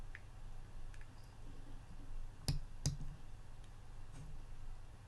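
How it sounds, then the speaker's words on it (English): A computer mouse clicking, two sharp distinct clicks close together near the middle with a few fainter ticks around them, over a low steady background hum. "then I'm going to click on OK"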